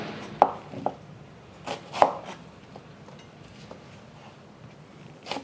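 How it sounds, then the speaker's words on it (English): Knife slicing through an onion on a cutting board, heard as a few sharp, close chops at irregular intervals over a quiet kitchen background, with no talking. "I'm just going to slice it"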